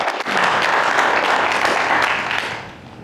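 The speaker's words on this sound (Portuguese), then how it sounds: "eu parabenizo todos vocês com uma grande salva de palmas por terem convidado seus vizinhos muçulmanos para estarem aqui" A church audience breaks into loud, sustained applause that holds steady for a few seconds, then tapers slightly near the end.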